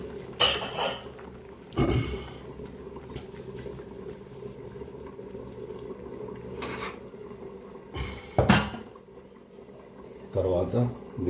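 A pan is set on top of a chicken dum biryani pot with several sharp metallic clanks and knocks, spaced apart, close by, against a quiet kitchen background with a voice at times.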